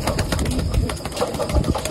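Racing pigeons entered in a one-loft race coo and flutter close by, a busy mix of soft calls and wing movement running steadily throughout with no talking.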